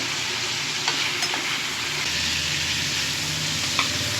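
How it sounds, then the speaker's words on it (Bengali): Hilsa fries in mustard spice paste with a loud, steady sizzle close by, broken by a couple of faint clicks. "মাছগুলো এই মশলার সাথে একসাথেই ভাজা হচ্ছে।"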